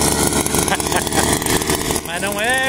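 The small engine of a soil auger is started and revs up near the end, rising in pitch under steady talk from people nearby.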